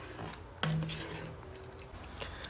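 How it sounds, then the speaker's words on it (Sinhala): A spoon stirs cashew curry in a pot, with a sharp metallic clink followed by faint scraping and soft clatter, close but quiet, no voices. "මේක හොඳින් හැඳි ගන්න ගමන් මද ගින්දරේ මම මේක උයා ගන්නවා"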